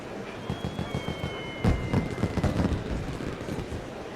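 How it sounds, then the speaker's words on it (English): Fireworks from the courtroom video game The Great Ace Attorney Chronicles crackle and pop in a busy stream of bursts, with a thin whistling tone overhead, continuous and fairly loud. "Fireworks and everything."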